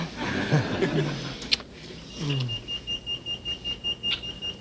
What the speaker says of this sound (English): What's that? It's an alarm.